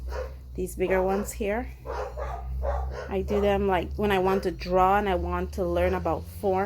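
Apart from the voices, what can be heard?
dogs barking at garbage truck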